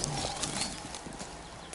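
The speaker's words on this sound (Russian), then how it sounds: "Рабочая лошадка." Hooves of a working horse clop along a country track, a steady irregular patter under constant outdoor noise, fairly close and moderately loud with no talking.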